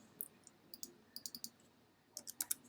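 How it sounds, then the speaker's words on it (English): Computer keys and mouse clicking while editing a cutting size on a Brother Scan N Cut, scattered quiet clicks in small bursts, then a tighter cluster of sharper taps near the end. "Then click on enter."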